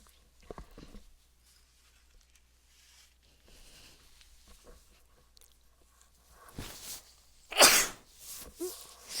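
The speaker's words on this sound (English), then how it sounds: "I knew I was gonna sneeze." A single sharp sneeze bursts out near the end during a Minecraft gameplay session, loud and close, after a quiet stretch with faint movement noises and a brief earlier sound.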